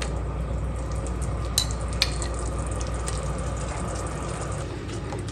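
Tomato puree going into spicy potatoes in a pan, a soft continuous sizzle with a couple of light clinks, close and low, with no talk over it.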